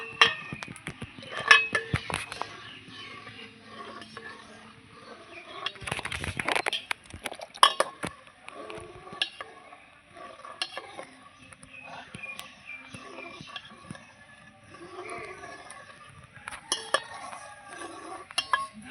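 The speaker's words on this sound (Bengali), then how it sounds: "অল্প অল্প করে ভিনিগারটা দেবো আর মেশাবো" A spoon stirs vinegar into hot milk to curdle it for chhana, with repeated clinks and scrapes against a metal pot and a soft splash of liquid, close by and mixed with occasional talk.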